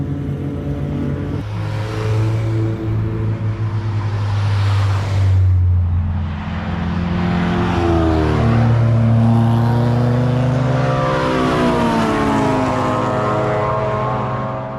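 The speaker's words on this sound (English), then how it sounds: "let's go take a look at some of the other cars that are blasting around this track right now" Loud race car engines roar past one after another, pitch rising and falling as they accelerate and shift, with no talking.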